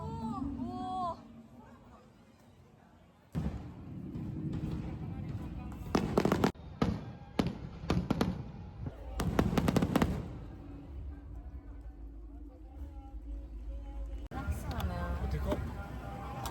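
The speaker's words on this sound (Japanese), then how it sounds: "花火してんの？" Fireworks burst in irregular clusters of loud, sharp bangs and crackles, with people chattering and calling out around them.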